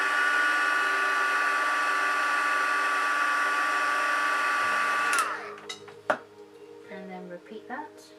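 A handheld heat tool blows steadily for about five seconds to heat set freshly dabbed paint, then cuts off, leaving light handling clatter.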